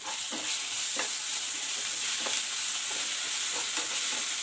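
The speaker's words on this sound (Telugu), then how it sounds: "అల్లం వెల్లుల్లి పేస్ట్ కూడా బాగా మగ్గిపోయినట్టే" Ginger garlic paste fries in a pan with a soft, continuous sizzle, broken by regular stirring strokes that scrape through at a steady rhythm, close by and with no voices.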